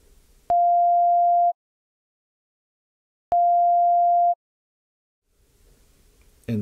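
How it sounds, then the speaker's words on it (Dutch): A pure electronic sine tone, one of the two parts of a DTMF telephone dialing signal, sounds twice as clean one-second beeps separated by silence, followed by faint rustling near the end. "Ik zal eens even de 697 eerst laten horen."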